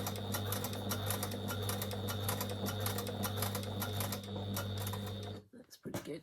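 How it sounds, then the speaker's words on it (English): A home sewing machine stitches around the edge of a skirt's fabric, giving a steady fast mechanical whirring with rapid needle clatter for about five seconds before it stops and a few soft handling sounds follow. "So I'm just going to stitch around the edge here"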